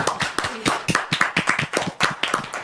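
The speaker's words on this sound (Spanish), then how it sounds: "Y un aplauso para todos los maestros." Studio audience claps for all the teachers on a television talk show, a brisk run of individual, fairly close hand claps in an uneven rhythm, loud and unbroken for about three seconds.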